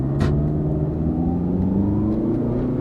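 An inexpensive used car pulls away from a stop in a takeoff test, its engine rumbling and rising steadily in pitch as it accelerates, loud and close, with no talking.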